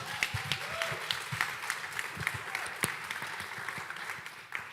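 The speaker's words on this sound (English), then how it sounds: "so please give us a round of applause." An audience at a festival book chat claps in steady, dense applause with a few louder individual claps standing out, continuing throughout.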